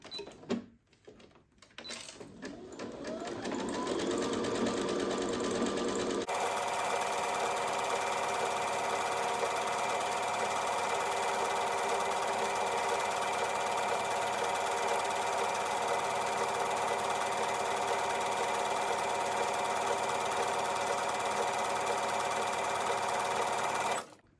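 A sewing machine runs a zigzag stitch around an ostomy bag cover, starting with a few uneven bursts and then settling into a steady, continuous mechanical whir, close and alone.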